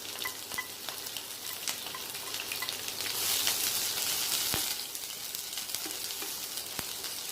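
Sliced onion and curry leaves frying in hot oil for a fish curry, giving a steady close sizzle with stirring scrapes that swells louder in the middle before settling back to a constant hiss.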